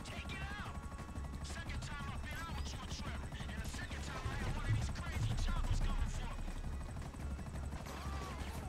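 A helicopter in GTA V thrums as a continuous low rotor beat under a busy firefight, mixed with gunfire bursts and someone talking excitedly throughout.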